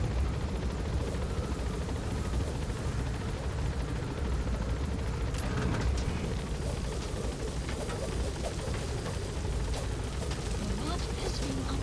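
A helicopter in Metal Gear Solid V: The Phantom Pain gives a constant loud, dense rotor and engine roar through the whole stretch, with voices talking faintly beneath it.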